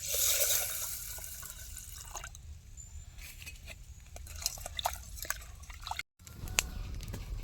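Moong dal lentils being washed in water in a bowl: soft sloshing and dripping with scattered small splashes and trickles, fairly close, continuing throughout with a brief break near the end.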